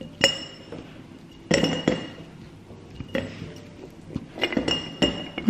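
Green chocolate eggs dropped into a glass jar for a DIY Easter bunny jar: several sharp close clinks and rattles in small bursts, with quiet gaps between the drops.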